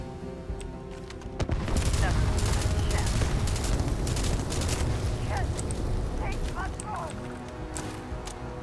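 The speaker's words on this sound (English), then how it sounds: "I forgot it was a burst weapon." Burst weapon gunfire in the game Starfield rattles loudly and densely for several seconds, with rapid repeated cracks and impacts under a busy, noisy combat mix.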